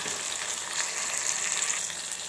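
Tomatoes with ginger-garlic paste fry in a pan while being stirred, giving a steady, close sizzle that holds even throughout with no voices.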